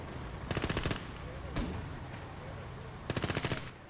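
Two sharp bursts of 30 cal machine gun fire in the Gates of Hell: Liberation World War II game, each a rapid string of about eight shots, with a single heavier bang between them over steady battle rumble.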